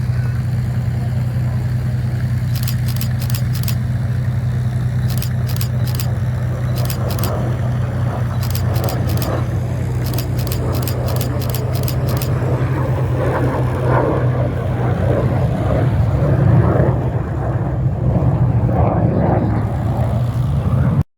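Propeller warplanes such as Spitfires, P-51 Mustangs and Corsairs flying past at an airshow, a loud, continuous, low engine drone that swells and rolls as they pass, with bursts of rapid clicking near the start.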